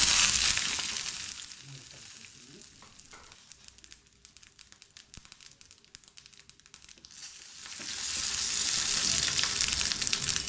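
Dry chillies, mustard seeds, urad dal and cashews fry in hot oil, giving a loud close sizzle that dips into crackly spitting mid-way and then swells again.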